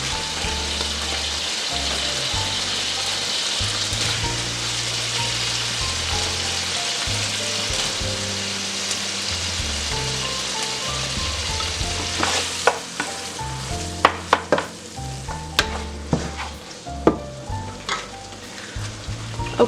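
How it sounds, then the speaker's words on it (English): Sausage frying in leftover chicken fat for Cajun dirty rice, a loud continuous sizzle up close, with sharp utensil scrapes and clacks growing more frequent toward the end, no voices. "And I'm going to add the sausage."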